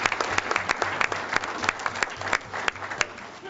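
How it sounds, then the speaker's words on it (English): Audience applause at a school board meeting, a steady patter of many hands with a few sharp, louder claps standing out, at moderate volume and with no talk. "Let's give him a round of applause."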